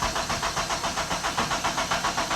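A K-swapped Toyota MR2 engine cranks over on the starter in a steady, rapid rhythmic churn that repeats without catching, loud and close throughout.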